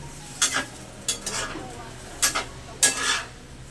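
A utensil scrapes and stirs squid adobo in a hot pan in four quick bright strokes over a soft sizzle.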